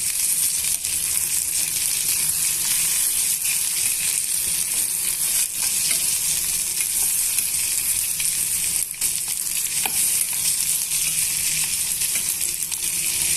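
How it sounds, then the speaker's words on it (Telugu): Chopped onion, green chillies and half-inch ginger pieces frying in a pan for tiffin-centre chutney, a dense, even, close sizzle that hisses continuously with no talking. "పెద్ద ఉల్లిపాయ కట్ చేసి పెట్టుకున్నానండి ఆ ముక్కలు వేసుకున్నాను తర్వాత పచ్చిమిరపకాయలు హాఫ్ ఇంచ్ అల్లం ముక్కలు వేసుకొని ఇవన్నీ కూడా బాగా వేయించేసుకోవాలి"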